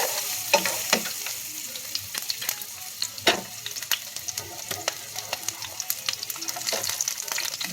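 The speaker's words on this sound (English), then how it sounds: "So I'm gonna flip my patties while this cook down a little bit." Meat patties frying in a pan sizzle and crackle steadily at close range, with sharp pops and spatters scattered throughout at moderate volume.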